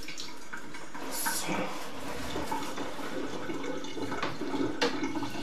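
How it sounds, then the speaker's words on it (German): Water running into and flowing through a steeply sloped drain pipe during drain cleaning, a steady broadband rush with a few brief splashy bursts throughout. "Lassen wir jetzt gleich mal Wasser laufen."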